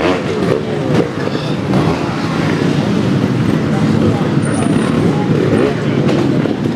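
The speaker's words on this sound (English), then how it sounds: "So Doug making light work there of the first part, keeping the bike moving as well" Dougie Lampkin rides a replica trials motorcycle at the Kirkby Christmas motorcycle trial. The engine hums and revs steadily under continuous commentary.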